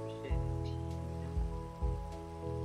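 Rain falling in the Minecraft video game, a steady hiss that runs through the clip beneath sustained tonal background sounds.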